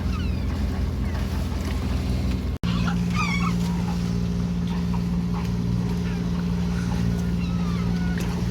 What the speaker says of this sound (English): Give it to the seagulls.